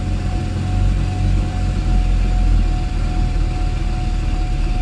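A Mercedes SL R129 engine idles right after a cold start with a leaking exhaust, a steady low rumble holding close and loud for the whole stretch with a faint constant hum above it.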